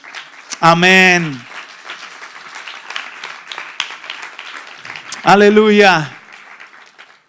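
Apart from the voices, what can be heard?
church congregation applause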